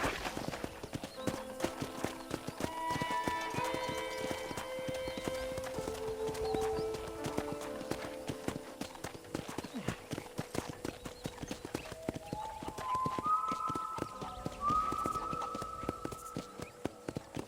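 Rhythmic clip-clop of horse hooves runs steadily throughout, with a brief whinny and musical tones layered over the trotting, in the video game Red Dead Redemption.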